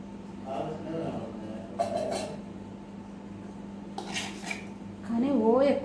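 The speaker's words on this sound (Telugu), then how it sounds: "స్లోగా ఇలా తిప్పండి" Temple-style tamarind rice (pulihora) stirred slowly in a metal vessel with a spoon, giving soft scraping and clinking strokes in short bursts, with someone talking over it.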